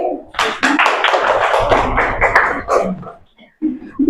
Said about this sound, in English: clap for Khushi